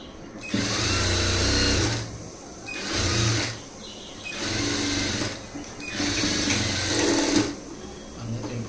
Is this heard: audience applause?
no